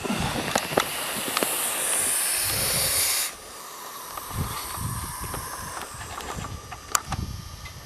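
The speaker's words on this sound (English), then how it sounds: "he's rattling his old tail there" A snake in open sagebrush country gives a sustained breathy hiss for about three seconds, close and fairly loud, followed by quieter rustling and a few faint sounds.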